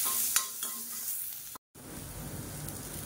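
Garlic cloves crisping in hot oil in a pan, a steady crackling sizzle with a few stirring scrapes, a brief dropout midway, then fuller frying noise close by.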